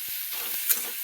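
Peanuts, onion and tomato frying in a pan give a soft, steady sizzle with a faint stir or clink partway through.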